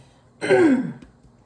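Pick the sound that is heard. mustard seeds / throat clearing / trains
throat clearing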